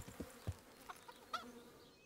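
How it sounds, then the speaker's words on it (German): A chicken clucks in the video game Kingdom Come: Deliverance, a few short, faint clucks spaced irregularly over quiet ambient buzzing. "Schönes Huhn."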